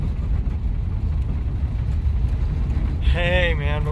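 A 1960 Rambler American rolls along with a steady low engine and road rumble close by, and a voice speaks briefly near the end.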